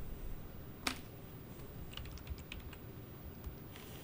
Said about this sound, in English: type in SketchUp